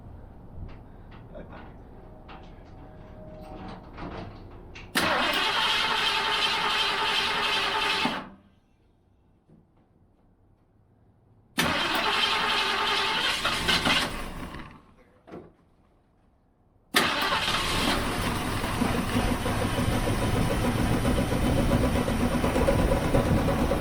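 A 1966 Ford Mustang engine started for the first time in 20 years: loud, rough running in bursts that cut out twice to near silence, then catches and holds steady to the end, close by with no talk.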